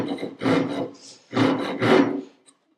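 Japanese hand saw making cross-cut strokes on wood: three close, rasping push-pull strokes with short pauses between them, followed by a faint tap at the end and no talking.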